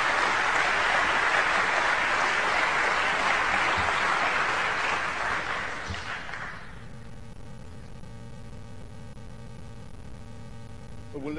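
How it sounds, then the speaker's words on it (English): Loud sustained applause from a lecture audience fills the first six seconds, then fades out, leaving a quieter hall with faint tonal hum. "Pity about the applause."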